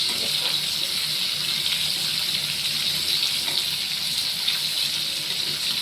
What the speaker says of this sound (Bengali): দিয়ে তারপর জল ঢালবো।